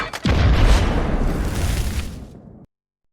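Grenade explosion in a competitive first-person shooter match, one loud, close boom with a deep low rumble that decays over about two seconds before cutting to silence.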